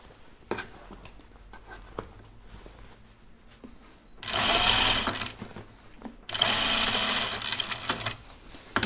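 A sewing machine stitches pajama bottoms in two sustained close runs of steady whirring, with quiet handling clicks and rustling of fabric before and between them.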